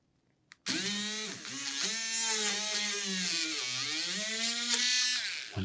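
Small USB drill fitted with a 1.1mm bit drills a hole in a model ship part, a close, steady high-pitched whir starting abruptly after a tap and wavering slightly in pitch under load.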